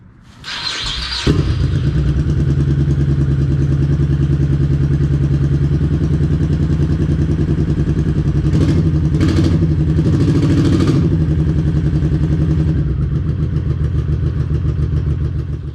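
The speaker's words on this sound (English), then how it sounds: "let's roll the cold start with the stock exhaust in the garage" A 2003 Honda Shadow Sabre 1100 with stock exhaust cold-starts in a garage with the choke on: a short crank catches into a loud, steady, thumping idle that runs close and unbroken for about fifteen seconds.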